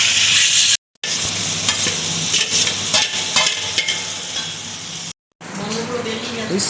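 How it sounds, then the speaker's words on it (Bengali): Chicken sizzling and frying loudly in oil and butter with onion, ginger and garlic paste, close up and continuous, with stirring scrapes across the pan and two brief cuts to silence. "এটা এখন তেল বাটার দিয়ে কষানো হচ্ছে, সাথে পেঁয়াজ আদা রসুন পেস্ট।"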